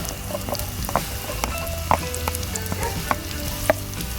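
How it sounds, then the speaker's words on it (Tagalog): Onion and garlic sauté in hot oil in a pan during backyard cooking, a steady close sizzle broken by scattered sharp pops and crackles of spattering. "magigisa tayo ng ating sibuyas"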